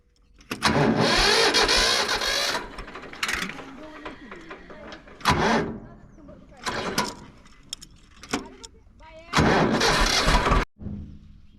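A farm tractor engine cranks in several separate bursts, catching and sputtering between attempts before settling into a rough idle, with people talking nearby in the pauses.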